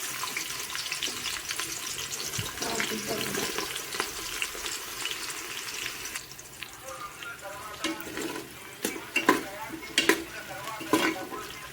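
Onions sizzle continuously in hot oil for chicken biryani, a close, busy frying hiss with scattered sharp clinks and scrapes of stirring growing more frequent toward the end.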